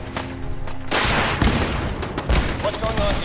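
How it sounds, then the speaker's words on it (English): Gunfire in Fallout 4 erupts as dense, overlapping bursts of rapid shots, loud and sustained, with a brief quieter lull before the volley starts. "Am I being shot at?"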